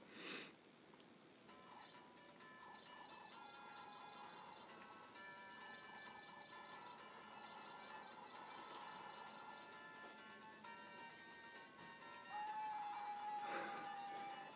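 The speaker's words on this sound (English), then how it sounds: "every time you die, it does make that horribly obnoxious noise" A burst of chirpy, synthetic game effects from the PSP Minis title Gang Wars, Time Soldiers, including an obnoxious death noise, plays as a busy series of high electronic tones and jingles, fairly faint and with no talking.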